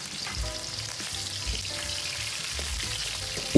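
Pork belly sizzles and fries in oil in a wok over low heat for stir-fried cabbage, a steady close crackle with occasional scraping stirs and soft bumps throughout.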